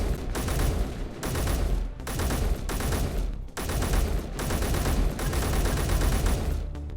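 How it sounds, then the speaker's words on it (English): Gunfire strikes a spaceship in the video game Space Engineers, loud rapid automatic bursts in a steady rhythm of repeated volleys, with no talk over it. "someone's shooting at us. They're shooting at our spaceship."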